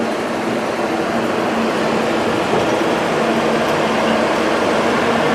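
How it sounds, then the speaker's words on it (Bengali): Sealdah–Puri Duronto Express train pulling into Puri Junction, a steady broadband rumble and rolling rail noise that stays even and continuous throughout, with no distinct horn or clanks standing out. "ট্রেনটা চলে এসছে পুরী জংশন পুরীতে ঢুকে গেছে"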